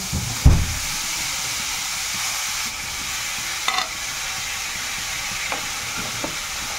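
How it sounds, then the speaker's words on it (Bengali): Grated coconut cooking in a pan as stuffing for date-palm jaggery singara: a continuous, even sizzle and hiss, with a sharp knock near the start and a few faint stirring scrapes. "নারকেলটা কোড়া রেখেছিলাম, এখন বানিয়ে নেব একটু স্টাফিংটা"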